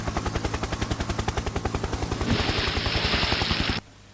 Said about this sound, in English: this Wessex helicopter lost power in one of its two engines and had to dump its load